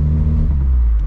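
A VW Gol with a full stainless steel exhaust revs loud and close, a heavy droning rumble with strong low tones that holds steady for about a second.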